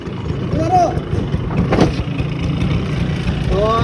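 A small scooter engine runs steadily with a low, rough idle, while voices murmur faintly nearby.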